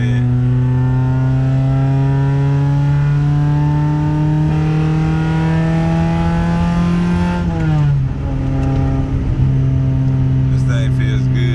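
An F20B-swapped Honda Accord (CG5) accelerating through the gears, a loud, close engine drone rising in pitch, then dropping at a shift and climbing again; the third-gear grind is not distinct.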